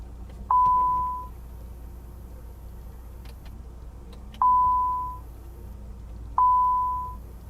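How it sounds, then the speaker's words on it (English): Rear intercom in a Maybach 62 luxury sedan rings like a telephone: three clear, steady electronic beeps, each about half a second long, spaced a few seconds apart, loud and close over a faint idling engine hum. "the driver presses their intercom button and it rings back here like a telephone"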